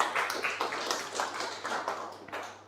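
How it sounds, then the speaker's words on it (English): Applause from the audience at a .NET Liverpool lightning talks tech meetup, a moderately loud, steady patter of many hands clapping that fills the whole stretch without speech over it. "I just want to say a round of applause to Samson as well."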